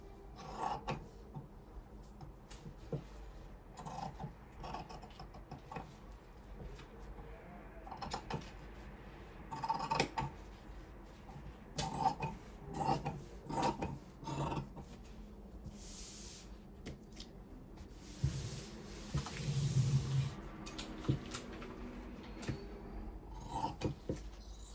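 Scissors cut blouse fabric for the back panel of a collared saree blouse. It gives quiet, close, irregular snips and fabric rustles, spread out with pauses and a few louder handling sounds.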